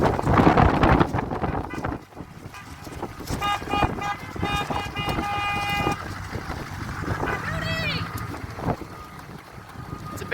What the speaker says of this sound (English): It's a bit windy today out here, Oli.